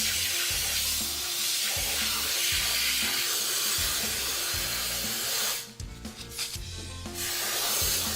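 Spray foam insulation hisses onto a foundation wall in a continuous close spray, broken by a short pause before it resumes, with no talking.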